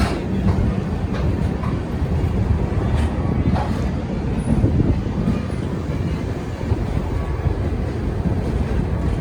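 A train departing Darbhanga station rumbles and rattles steadily nearby, wheels clattering over the rails with a constant low roar.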